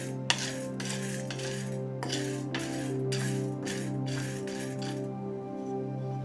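A metal spoon scrapes and clinks against a pan in a quick repeated rhythm, stirring dal as it roasts, close and fairly quiet, then stopping near the end.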